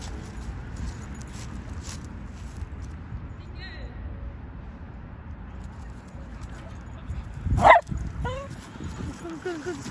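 A pet dog gives a few high whimpering whines, then a single sharp, loud bark-like burst near the end, heard fairly close over a constant low background murmur.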